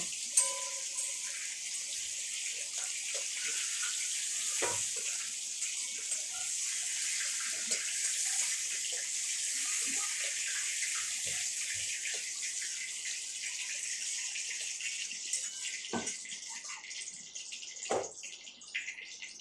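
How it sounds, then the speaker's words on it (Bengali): Pointed gourd (potol) frying in oil, a steady, fairly quiet hiss and sizzle throughout, broken by occasional soft pops and clinks. "3 মিনিটের মতন ভাজা হোক পটল।"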